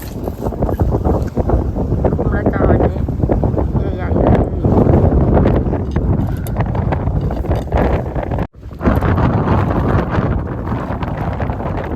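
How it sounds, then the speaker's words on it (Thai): Strong wind blasts across a seashore where crabs are being caught, a constant, loud roar buffeting the microphone with only a brief dip, and a voice talks under the gusts. "ลมแรงมากเลย"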